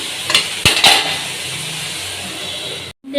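A metal lid set onto a cooking pot of mocha ghonto, a Bengali banana-flower dish: a couple of sharp clanks and a rattle up front, then a steady low hiss from the stove.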